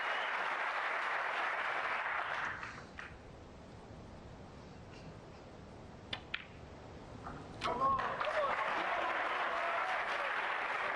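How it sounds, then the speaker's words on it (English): A snooker crowd applauds a shot in the Saudi Arabia Masters 2024 final, the clapping loud at first, then dying away to a quiet hall with a few isolated claps before a fresh burst swells up near the end. "every ball is being cheered in by this crowd"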